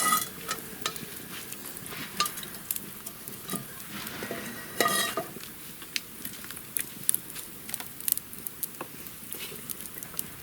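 Oil sizzles and crackles steadily in a pan as lavash chebureks fry, with irregular spits and pops and occasional scraping or stirring sounds nearby.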